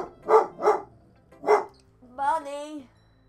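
A dog gives three loud, close barks, two quick ones and then a third after a short pause, followed by a person speaking.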